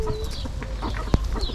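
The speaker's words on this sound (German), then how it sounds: "Hier sind überall Hühner und Küken und Enten und Pfauen auch" Chickens cluck and chatter nearby, with a sharp bird call cutting through a busy farmyard background with chicks, ducks and peacocks, at a campsite in Marrakech, Morocco.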